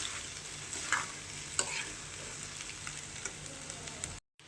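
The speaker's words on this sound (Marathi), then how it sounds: "आता नूडल्स टाकले मी. आता हे मिक्स करायचं." Veg noodles frying in a pan are stirred, giving a steady sizzle with a few short scraping clicks from the utensil near the start. No voices; a brief silence at the very end.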